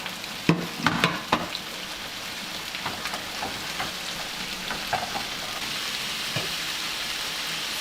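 Spices and seasoning paste sizzle and fry in a pan on a stove, a steady loud crackle with a few sharp stirring clatters near the start, no talking.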